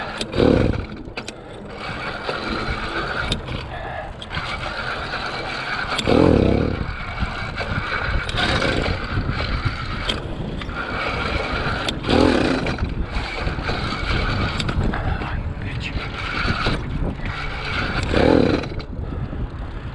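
A motorized bicycle engine, running rich after new jets, sputters and revs unevenly, with recurring louder surges every few seconds as it struggles to keep running.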